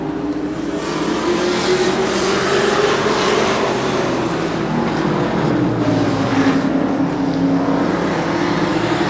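Short track race cars, including a Chris Ballas Engines Monte Carlo, roar off together at the start of a Super Short Track Racing Series race, a loud, continuous engine drone that rises and falls in pitch as the pack passes.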